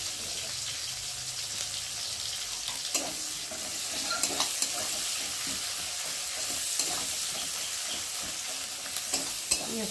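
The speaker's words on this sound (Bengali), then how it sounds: "ফোড়নে দেবো পেঁয়াজ। দেবো কটা কাঁচা লঙ্কা।" Sliced onions and green chillies fry in hot oil as a Bengali tengra fish curry begins, a constant bright hiss with occasional stirring taps, fairly loud and close.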